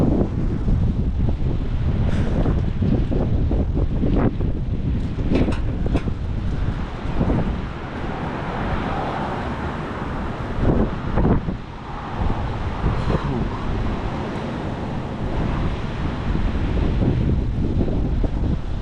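Powerful windstorm gusts sweep across the Ohio Valley, a loud, unbroken roar that buffets the microphone, rising and easing in waves with sharp gust peaks.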